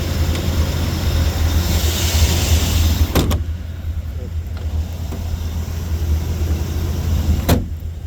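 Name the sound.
1980 Chevrolet Corvette on a test drive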